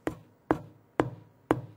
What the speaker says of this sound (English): I can demonstrate this by banging on the side of my bass.